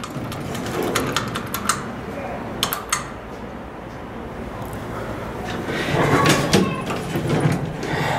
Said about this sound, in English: The door just slams.